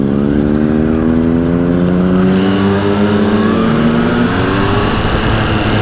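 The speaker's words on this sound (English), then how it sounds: "Look at that Lambo!" Lamborghini Huracan engine revving hard as it passes by on a road in Lonavala, loud and close, with rising and falling tones sweeping across the pass and a steady roar throughout.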